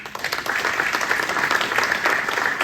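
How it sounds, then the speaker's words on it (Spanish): A Spanish-speaking church congregation gives the Lord a brief round of applause during Sunday worship, bright dense clapping that swells quickly and holds steady. "Denle un aplauso al Señor."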